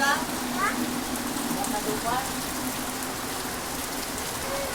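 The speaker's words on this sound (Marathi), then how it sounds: "बघा ते बघा किती पाऊस पडायला लागलाय" Heavy morning rain falls in a dense, steady wash of drops on surfaces, loud and close, while faint voices and a few bird chirps come through underneath.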